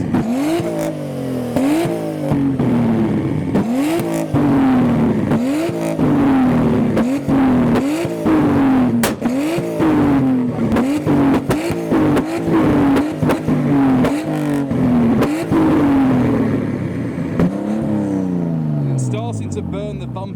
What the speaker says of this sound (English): now it sounds like we've got some R34 revs